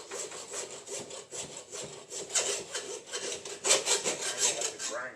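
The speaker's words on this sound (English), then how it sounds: "this blade may be old enough and beat up enough where it doesn't cut that steel properly" An old, worn saw blade rasps through steel in quick, uneven back-and-forth strokes, loud and close, with a harsh scraping tone throughout and no talking.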